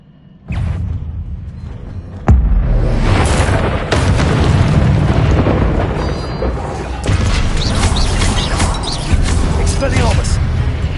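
Booming spell blasts and bursts erupt during combat in Hogwarts Legacy, loud repeated impacts layered with crashing debris, while a player shouts over the action.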